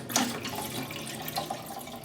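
Bottled Poland Spring water pours into the reservoir of a Keurig coffee maker, a brief close splashing gurgle with a few small drips.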